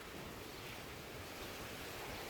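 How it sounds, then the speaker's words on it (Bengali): Strong, steady wind roaring across the microphone, a dense rushing noise with low buffeting rumble and no pauses. "দেখেন ঝড় বাতাস"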